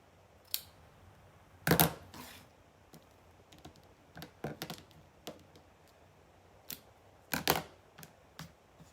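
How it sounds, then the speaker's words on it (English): Scissors make a handful of sharp, separate snips, trimming material for a chalk couture ombre craft, close and quiet against a hushed room. "cut this one a little."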